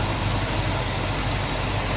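A 1965 Ford Mustang Coupe engine idles with the hood open, a steady, smooth, even rumble, loud and close throughout with no voices.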